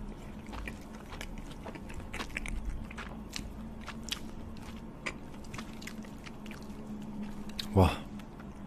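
Crunchy biting and chewing of food at a close ASMR microphone, with repeated crisp bites over a low steady hum and a louder crunch near the end.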